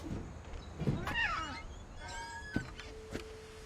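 A cat meows several times in What Remains of Edith Finch, short rising and falling cries spaced over a few seconds against a quiet game background.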